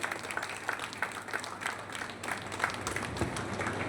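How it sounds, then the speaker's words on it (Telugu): Applause rises from an audience at a dance award ceremony, many hands clapping together in a continuous fairly distant patter that stays even and moderate throughout. "మీరు చప్పట్లు ఎంకరేజ్ చేయండి"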